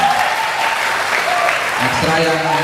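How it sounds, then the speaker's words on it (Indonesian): Loud applause from students at a high school orientation event, a continuous close wash of clapping with voices and talk mixed in. "Tepuk tangan untuk Pasko."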